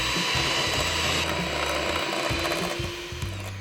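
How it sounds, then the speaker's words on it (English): Electric hand mixer whirring steadily through pumpkin cheesecake batter in a bowl, a loud continuous motor drone with a rattling, grinding edge as the beaters churn, running close by with no talk. "grab that hand mixer and mix this nice and thoroughly for about 30 to"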